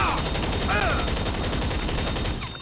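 A rapid, unbroken stream of shots as a magazine is emptied in GTA 5 Online, loud and evenly spaced, tapering at the end.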